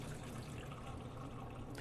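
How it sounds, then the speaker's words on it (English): Water pours steadily out of a cooking pot of mussels in a kitchen, a continuous close rushing splash with no talking. "So drain the water out."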